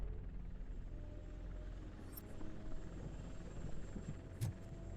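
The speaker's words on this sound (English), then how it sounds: "That's a TV helicopter." A TV news helicopter in the video game RoboCop Rogue City gives off a faint, steady rotor rumble and drone, distant and constant, with small clanks and noises from the scene around it and no speech.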